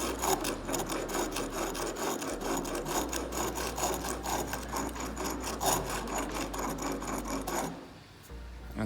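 A chisel is rubbed back and forth on a piece of a broken grinder wheel, producing a steady rhythmic rasping scrape, close and continuous, over a low motor-like hum that cuts out near the end.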